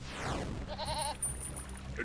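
A goat bleats in a video game, a wavering cry rising mid-clip over steady game background noise and a low hum, with no talk.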